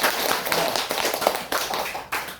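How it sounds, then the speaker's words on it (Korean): A small gathering of elderly people at a village senior center claps in welcome, a dense, steady patter of many hands close by, broken by a few brief dips and carrying on for a couple of seconds without speech. "박수하겠습니다."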